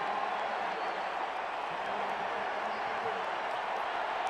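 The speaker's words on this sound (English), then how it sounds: "Things seem to happen faster when the crowd is going wild here in Autzen Stadium" Stadium crowd roaring steadily at Autzen Stadium during a 2007 USC at Oregon college football game, a dense, continuous wash of distant cheering and noise with no break.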